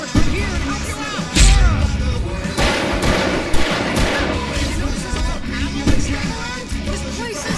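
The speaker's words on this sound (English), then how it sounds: "I can set off more of the fireworks from here and help you out!" Fireworks bursting in the Alan Wake Remastered video game, a dense, continuous barrage of booms and crackles with sharp louder blasts around the second and fourth seconds, mixed with game music and voices.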